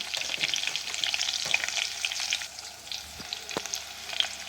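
Curry leaves hit hot oil for mango pickle, giving a close, steady crackling sizzle with sharp pops and occasional stirring scrapes, no talking.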